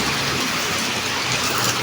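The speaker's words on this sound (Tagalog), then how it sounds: "Ang lakas ng ulan, no?" Heavy rain pours steadily in a stormy downpour with wind, a dense continuous hiss of drops close by, loud and unbroken, with no voices.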